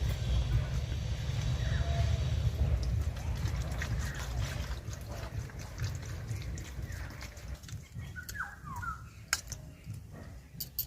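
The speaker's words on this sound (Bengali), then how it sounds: "এবার জল দিয়ে ভালো করে ধুয়ে নেব।" Peeled tomatoes are washed by hand in water, a steady close swishing and trickling with low sloshing throughout and faint splashes near the end.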